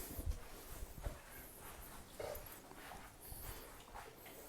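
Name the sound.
dogs chewing bones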